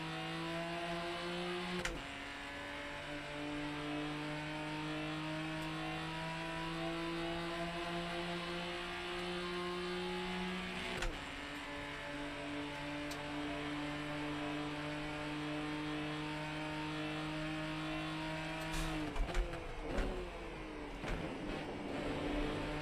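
A race car engine in a racing game revs at a steady high pitch, holding through long stretches with brief drops at gear shifts, then a rougher burst of shifting and bumps near the end.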